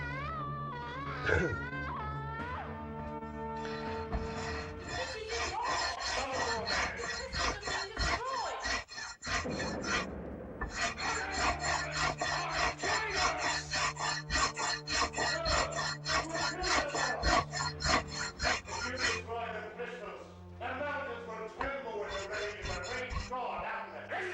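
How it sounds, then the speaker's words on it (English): Sandpaper rasps back and forth on a guitar part during fret work in a rhythmic series of scratchy strokes, close and fairly loud, with a short pause midway. "I'm going to be sanding this again for a second"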